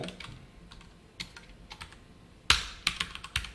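Irregular computer keyboard keystrokes while Java code is entered, scattered soft taps early and a louder burst of sharp clacks later, close by with no voices.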